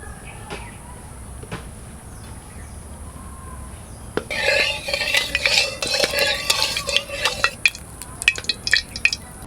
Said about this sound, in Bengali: তেলটা গরম হয়ে গেছে, মাছগুলো ভেজে নিচ্ছি।